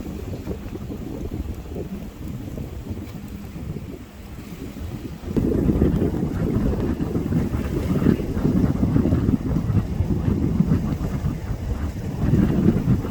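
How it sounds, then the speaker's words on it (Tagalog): Choppy, wavy lake water churning steadily in a loud, constant low rumble with wind buffeting the microphone, growing stronger partway through; boats are out on the lake. "maingay po yung tubig kasi maalon po"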